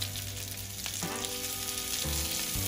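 Onion and garlic sizzle steadily as they fry and start to caramelize in a pan, a close, even crackling hiss with a faint background hum and no speech.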